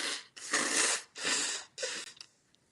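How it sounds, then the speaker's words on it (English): A person blowing their nose in three long, forceful bursts of breathy noise, close and fairly quiet, followed by a few small sniffs as it tails off. "I'm going to blow my nose again."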